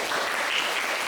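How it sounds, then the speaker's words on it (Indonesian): Dense, steady applause from a high school classroom audience fills the whole short moment at a constant level, with no voices standing out. "Beri tepuk tangannya"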